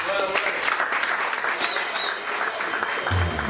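A live comedy show audience claps for a performer, a dense, steady roar of applause filling the room from start to finish, with a brief low thump near the end.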